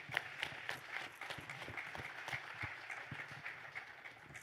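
An audience at a political event claps together, a faint, dense, steady patter that carries on without fading for several seconds.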